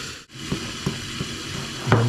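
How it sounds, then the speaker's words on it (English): Mexican cornbread batter made with beaten eggs being stirred in a bowl, with soft intermittent scraping and sloshing strokes close by, a few distinct pulses across the short stretch and no talk. "I'm just going to mix it up"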